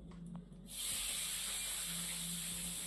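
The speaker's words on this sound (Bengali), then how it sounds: "বেগুনগুলো ভালো করে ভাজবো" Eggplant slices dropping into hot oil and breaking into a sudden loud, steady hiss of frying that carries on evenly after a quieter start.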